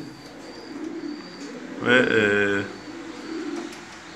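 Pigeons in a loft, Kara Komple and Gevişhane breeds, give a short close burst of cooing midway, with someone talking in Turkish before and after the call.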